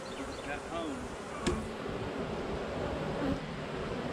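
Bees buzz steadily around a hive in a beekeeping yard, a dense low hum under faint voices of people talking nearby, with a brief click partway through.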